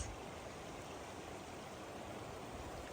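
A river rushes in a steady, even wash of water noise, continuous and fairly faint, with no voices.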